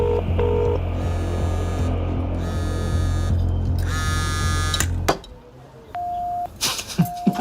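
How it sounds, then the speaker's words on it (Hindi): Rapid electronic phone dialing tones beep over a steady hum, then a single longer tone and a few clicks after the hum drops out. "चल फोन लगा उसे"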